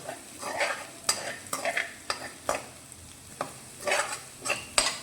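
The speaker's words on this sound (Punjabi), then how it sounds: "ਆਪਾਂ ਪਹਿਲਾਂ ਹਲਕਾ ਜਿਹਾ ਇਹਨੂੰ ਭੁੰਨ ਲੈਂਦੇ ਆ ਲਸਣ ਦਾ ਕੱਚਾਪਨ ਜਿਹੜਾ ਨਿਕਲ ਜਾਏਗਾ" Garlic and ginger roast lightly in a pan for pasta, with rhythmic spatula scrapes in bursts over a soft, continuous sizzle.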